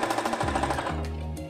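A sewing machine stitches quilt strips together, a fast steady mechanical rattle with shifting motor pitch, close and loud, running without speech.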